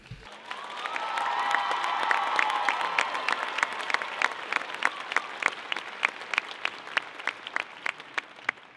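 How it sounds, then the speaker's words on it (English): A convocation audience applauds the incoming class in a large hall, the clapping rising into a full round with some cheers, then thinning to scattered claps near the end. "Please join me in a round of applause for the class of 2021."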